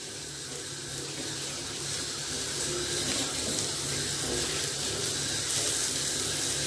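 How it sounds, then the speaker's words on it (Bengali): Water running steadily into a pan of sautéed vegetables for vegetable biryani, a continuous broad pouring and hissing wash at close range with no talking. "এই যে আমার তরকারি সবজিগুলো কষা হয়ে গেছে, এইবার দিয়ে দেবো বন্ধুরা এতে জল"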